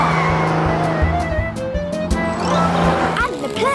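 A toy car zooms off amid cartoon-style racing sounds, an engine whine with squealing tires, loud and close, mixed with music and a voice speaking over it.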